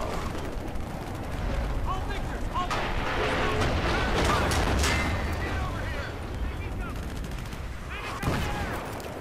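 Gunfire in the Battlefield 3 single-player campaign: rapid bursts and booming shots crackle and echo over a dense battle din, with a voice talking over parts of the action.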